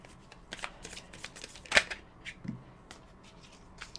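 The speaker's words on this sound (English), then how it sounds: "Let's pull a card." Cards from an Enchanted Art oracle deck are handled and one is pulled, giving soft close shuffling rustles and a sharp snap of cards in a quiet room.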